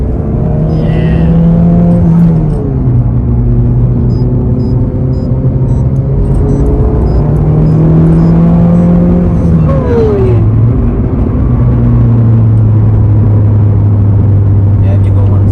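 A car engine pulls hard through the gears, its loud rising drone dropping in pitch at each shift and climbing again, heard from inside the car with people talking over it.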